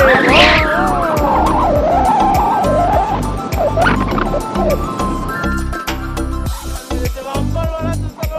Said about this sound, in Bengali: হর্নের আওয়াজ শুনতে পাচ্ছ